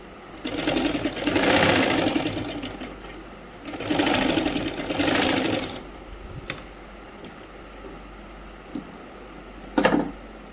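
A sewing machine stitches salwar fabric in two loud, steady runs of a few seconds each, separated by a pause, followed by quieter handling clicks and a short knock near the end.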